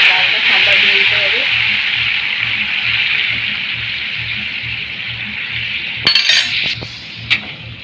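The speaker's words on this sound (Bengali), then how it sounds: "ফোরনটা একটু ভাজা ভাজা হয়ে গেছে" Mustard seeds and dried red chillies sizzle and crackle in hot oil at close range, with a steady hiss, some clinking of utensils near the end.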